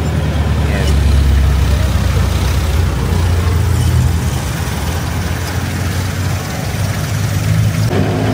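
A jeepney's diesel engine running loud and steady from inside the vehicle, a constant low rumble and rattle filling the whole stretch on a drizzly day, with a voice speaking faintly beneath it.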